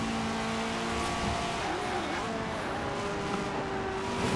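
Ferrari F40 in Forza Horizon 4 cruising along a seaside road, its engine droning steadily and loudly throughout, with people talking over it.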